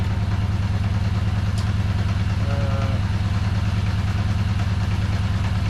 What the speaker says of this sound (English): I seem to remember these engines were always a bit clattery on tick over